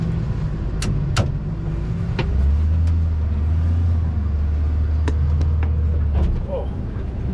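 A Cat 966 loader clears snow from the Wilkins runway in Antarctica, its engine droning loud and steady with a low hum that swells mid-clip and a few sharp clicks. No one talks.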